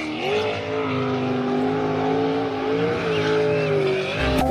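A speedboat engine drones loudly and steadily at close range, its pitch holding nearly level before rising sharply at the very end.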